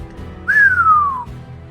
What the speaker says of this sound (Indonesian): Pendekar 212 mengedipkan matanya dan bersiul.